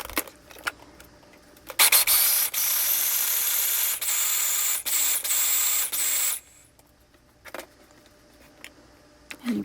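A mixer purees strawberries for a homemade strawberry cake, roaring loudly for about four and a half seconds between a few clicks and clunks of handling before and after.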